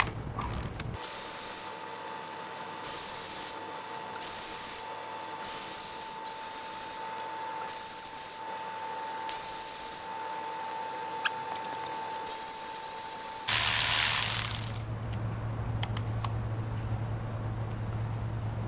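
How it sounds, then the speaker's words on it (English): Mechanical ratcheting and clicking as spark plugs are loosened from a blown Mercedes M156 6.2L AMG V8 engine, steady close-up turning noise for most of the stretch, then a brief louder burst before a lower hum. "Very first thing we're going to do is pull the plugs and see what they look like."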